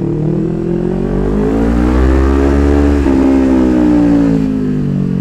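Kawasaki Ninja 400 with full exhaust and high-flow air filter revving on a dyno, a loud continuous engine pitch climbing steadily then holding high near the end, no talk.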